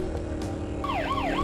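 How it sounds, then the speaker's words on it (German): A siren is switched on in the racing video game N.I.C.E. 2: after a moment of steady engine drone, a rising and falling electronic wail starts up and repeats its sweeping cycle over the continuous motor hum. "Mach mal die Sirene einmal an."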